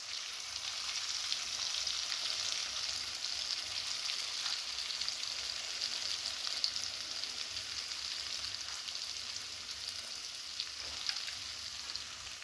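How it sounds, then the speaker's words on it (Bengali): Potatoes frying in a pan with salt and turmeric, a faint continuous hiss of oil sizzling with occasional small pops, steady throughout and without speech. "সাথে আমি আলুটাকে ভেজে নেব আগে।"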